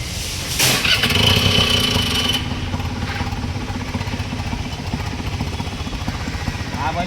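A CNG auto rickshaw engine in Khadakpada, Kalyan, is started after gas-kit fitting work. It catches with a loud, rough burst, then settles into a steady, close idle.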